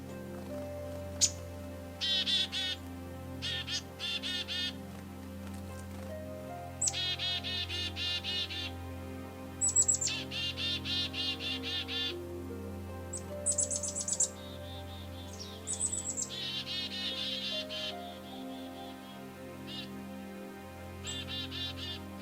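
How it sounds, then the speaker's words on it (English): Pileated and American three-toed woodpeckers and chickadees call around a lakeside forest campsite in fall, giving faint, scattered chirps and short calls over a low, steady background hum. "A big pileated woodpecker just stopped by. There's also an American three-toed woodpecker around and a bunch of chickadees."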